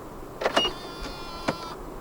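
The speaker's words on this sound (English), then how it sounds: "To lock the car, press the ribbed area on any of the front door handles." A brief motorized whir of a 2024 BMW i5 eDrive40's power windows closing as the car locks, with a couple of soft clicks and thumps, close and fairly quiet.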